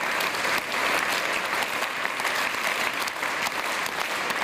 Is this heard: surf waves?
no